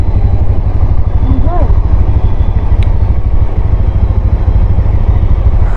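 Dense, loud street traffic with motorcycles: steady close engine drone and puttering throughout, a short horn-like tone early on, and a brief voice over the noise.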